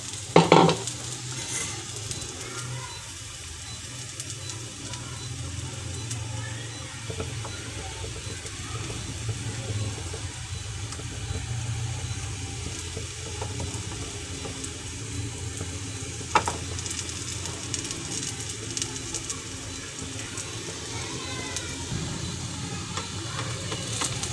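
A gram flour (besan) flatbread cooks in a pan over medium heat, giving a steady soft sizzle and frying hiss throughout with a few light clatters and no talk.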